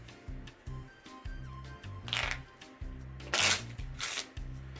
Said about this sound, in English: So if you're not good at shuffling, don't worry.